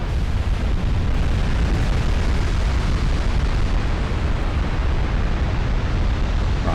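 Dense, continuous rumble of explosions and heavy fire in the Men of War DIP mod, a sustained loud barrage with bursts blending into one another, no talking.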